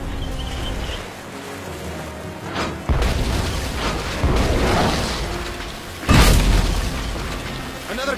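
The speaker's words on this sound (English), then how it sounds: "Another cannon, rapidamente!" Cannons fire during a ship battle in the video game Tales of Monkey Island: three heavy booms at intervals over a rumbling game soundscape, with voices faintly underneath.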